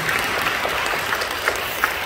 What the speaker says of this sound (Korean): 우리 송별이 자매님에게도 박수 한번